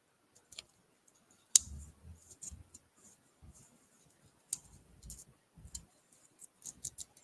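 Scissors trim paper for a craft project with a few sharp, quiet snips and clicks scattered between pauses, close by and with no talking.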